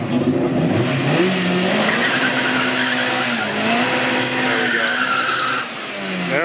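A 500-horsepower Mazda Miata does a burnout, its engine revving hard under a loud, sustained tire squeal that holds for several seconds and then eases off.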